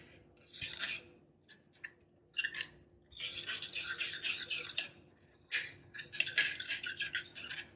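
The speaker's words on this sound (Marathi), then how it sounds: "हे सर्व छान फेटून घ्यायचं आहे" A spoon whisks a chili powder and turmeric mixture in a bowl, producing quick, light clinking and scraping taps in uneven bursts, close and fairly quiet, with no talking.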